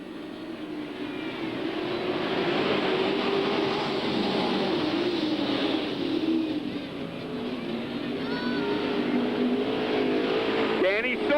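Sportsman stock cars race at Hales Corners Speedway in a 1994 heat, their engines a sustained roaring drone that swells and fades as the field passes, with an announcer talking over the noise.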